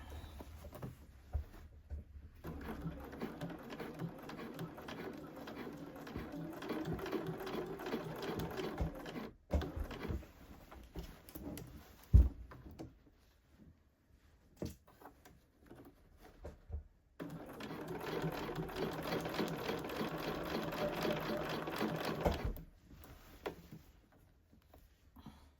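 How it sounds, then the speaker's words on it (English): A domestic sewing machine stitches a blazer's upper collar and facing unit to the under collar, running in two long steady bursts of rapid mechanical whirring with a short pause and a few brief stops between them. "stitch a couple of stitches across the point, and then carry on"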